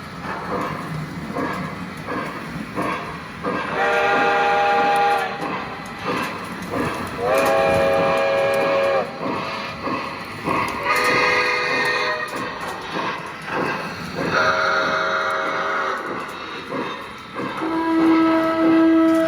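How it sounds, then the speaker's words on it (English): A 1/32-scale model steam locomotive sounds its whistle several times in long, chord-like blasts over a steady mechanical rumble, loud and close, with short pauses between calls. "the multiple whistles on this thing is pretty cool"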